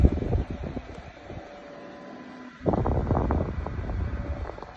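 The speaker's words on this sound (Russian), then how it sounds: "Включил, и как раз над столом она дует." A Steelpont portable desk fan clamped over a table runs with a steady airy whoosh and a faint motor hum, then grows noticeably louder and rougher partway through as the airflow picks up.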